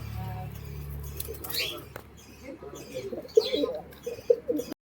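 Pigeons coo softly a few times close by, low rounded calls in the second half, with some background noise and faint voices.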